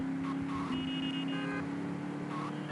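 A car drives in GTA Vice City Mobile, a steady engine drone with a few electronic tones layered on top, continuous and moderately quiet with no talk.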